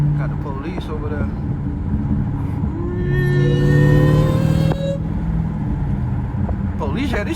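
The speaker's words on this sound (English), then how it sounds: "It is against the law for this vehicle to be whining this loud." 707hp Jeep Trackhawk driving in Miami traffic, engine drone with a supercharger whine rising in pitch, swelling loudest mid-way, as someone talks over it.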